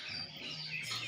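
Domestic pigeons call at a loft, giving steady chirping bird calls with a faint low cooing underneath, moderately close and with no talk.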